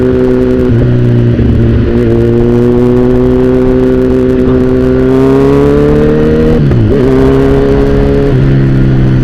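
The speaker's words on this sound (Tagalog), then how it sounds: "maraming sasakyan sa paligid" Loud, steady engine drone of cars and motorcycles moving close by on a road during a barangay fiesta, pitch rising and dipping as vehicles rev and pass, no talk.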